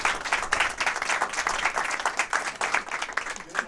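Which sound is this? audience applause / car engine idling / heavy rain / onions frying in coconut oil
audience applause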